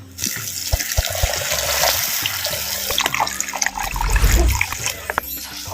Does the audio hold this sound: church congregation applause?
no